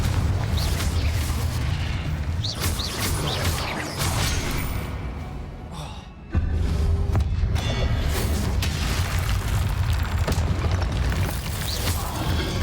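Booming Confringo spell explosions from Hogwarts Legacy pound through a dense, roaring combat mix, loud and sustained, with a brief dip before another blast kicks the noise back up.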